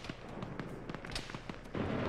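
Gunfire in a ShackTac military video game, with scattered cracks and pops at mid distance that build into a louder, denser burst near the end, no talking.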